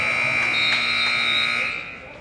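End-of-game buzzer in a high school boys' basketball gym sounding as a long, steady electronic drone, loud and unbroken, with crowd noise and voices underneath before it cuts off.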